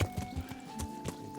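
A horse in Kingdom Come: Deliverance clip-clops along in a loose, uneven rhythm of hoof strikes with a faint snorting whinny, fairly soft, against a low steady tonal game background.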